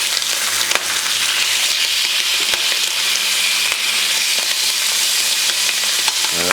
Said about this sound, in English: I can smell this bacon already, because this one is a little bit of honey flavored. And comes out nicely now in the pan.